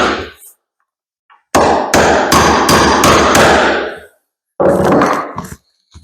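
Rapid series of sharp hammer strikes on wood and nails, setting nails in a staircase remodel, a run of several hits, a pause, then another burst, loud and close.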